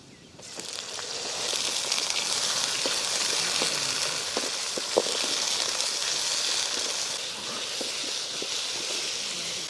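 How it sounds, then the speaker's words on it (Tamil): Brinjal, radish, mango and potato frying together in a pan make a broad, steady hiss that swells in after a quiet start, with faint scraping taps from stirring and no speech. "கத்திரிக்காய் முள்ளங்கி மாங்காய் உருளைக்கிழங்கு மொத்தத்தையும் வதக்கி எடுத்துக்கலாம்"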